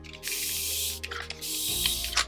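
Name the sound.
spray bottle of isopropyl alcohol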